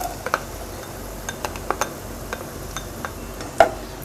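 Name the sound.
garlic and ginger frying in a pan, being stirred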